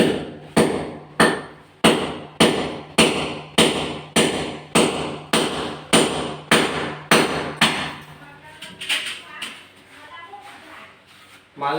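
About a dozen evenly spaced, sharp hammer blows drive nails into wood on a house construction site, loud and close, giving way to scattered knocks and shuffling noise near the end.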